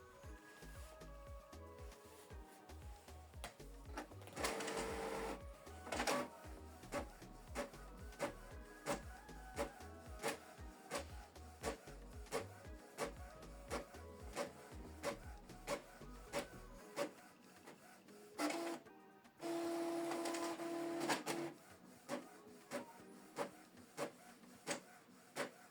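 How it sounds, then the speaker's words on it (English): A Canon Pixma TS4150i inkjet printer prints a two-sided color document with steady rhythmic mechanical clicking and whirring, swelling into louder motor bursts partway through, then ending on quieter feed sounds. There is no talking. "So we want to print this document two-sided in color, and the number of copies is one."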